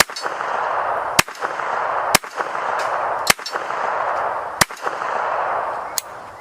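Five sharp, loud gunshots from a .25 ACP pistol, spaced about a second apart over a steady background hiss, each a hard crack with a brief ring.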